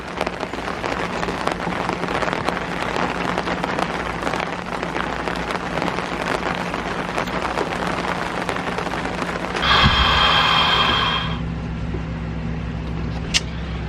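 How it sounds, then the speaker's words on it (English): Steady rain falls in a dense, continuous hiss on an outdoor boatyard where a Westsail 42 sailboat is under fiberglass repair, with a brief louder swell of noise partway through and no talking. "Here's the rain we've been anticipating for the last 2 days."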